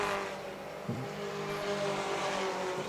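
Four-cylinder pro stock cars race in a 25-lap feature on an oval track, their engines giving a continuous droning roar at a moderate distance, with a brief passing surge near the start.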